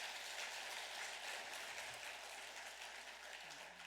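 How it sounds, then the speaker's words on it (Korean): Soft, steady applause from a crowd, heard faintly as if from a distance, continuing evenly throughout. "그러면 박수 한번 좀 하시죠."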